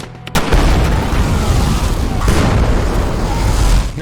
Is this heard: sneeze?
no